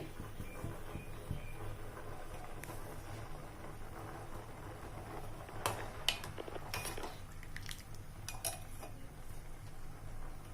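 Spoon stirring sago payasam with dry fruits in a metal pot, giving light clinks and scrapes over a steady background hum, quiet and close, with a few sharper metallic taps near the end.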